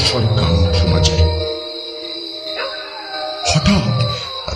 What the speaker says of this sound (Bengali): আবার সেই শিয়ালের ডাক আর কুকুরের তারস্বর কান্না শোনা যায়।